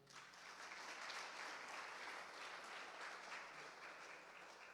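A church congregation claps together in steady, dense applause that holds at an even level throughout, heard from a little distance with no talking over it.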